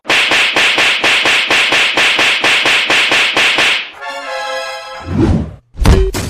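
Sharp repeated whip-like smacks in a fast, loud rhythmic series, then a sustained tonal squeal and a few heavy thumps, staged as people beating someone in a comedy skit.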